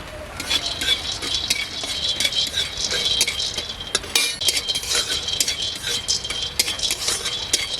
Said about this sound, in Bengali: এবার হালকা করে বাদামটাও ভেজে নেব